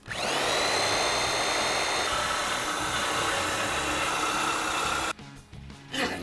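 A power tool whines loudly and steadily as it cuts through the factory exhaust pipe of a 2015-2019 Ford Mustang during an axle-back exhaust install, then cuts out abruptly near the end, leaving brief clatter.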